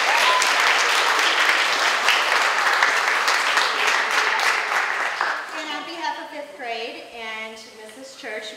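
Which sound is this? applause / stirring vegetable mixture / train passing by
applause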